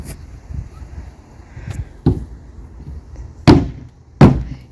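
Several sharp, sparse hammer impacts ring out at irregular intervals in an old shed under renovation, the last two louder, over a quiet background with faint rustling.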